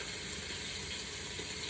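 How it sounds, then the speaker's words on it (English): Ground meat sizzling as it goes into a hot Pampered Chef Quick Cooker, a dense, continuous crackling hiss at steady loudness, close and alone throughout. "you're going to hear it sizzle when I put it in"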